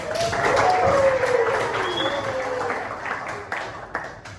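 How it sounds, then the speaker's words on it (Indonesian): Applause from a group fills the room with dense, steady clapping, gradually thinning out toward the end, with a few voices mixed in. "Beri tepuk tangan untuk."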